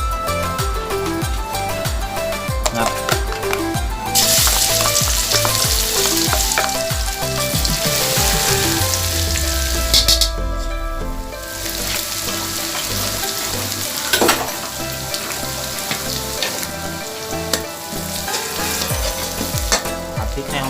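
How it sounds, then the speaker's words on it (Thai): Chilies stir-frying in hot oil for a dish of flowering Chinese cabbage with crispy pork, a loud, dense crackling sizzle with rhythmic scraping strokes of a spatula, continuous throughout with no talk. "น้ำมันก็ร้อนแล้วนะครับ เรามาเริ่มผัดพริกกันเลยครับ"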